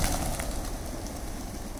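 Several pigeons cooing close by alongside a steady outdoor background, with no talking.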